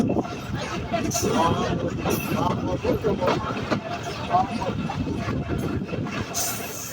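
A local passenger train, the Bhatiapara Mail running from Rajbari, rumbles steadily along the rails with a continuous loud clatter and hum, and a murmur of passenger voices runs underneath throughout.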